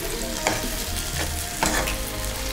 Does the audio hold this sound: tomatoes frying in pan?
yes